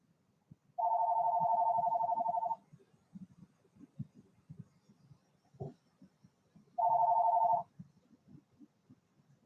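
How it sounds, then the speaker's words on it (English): A telephone rings in two bursts, a long electronic trill and then a shorter one, loud and close in a farmhouse, with low shuffling and room noise in between. "There goes the phone."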